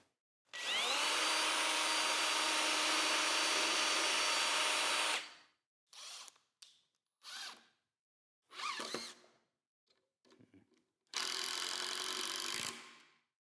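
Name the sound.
power drill drilling holes in wood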